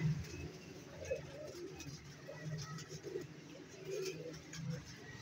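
Pigeons in a pigeon shop give soft, low repeated coos, faint and close, with rustling and background movement around them.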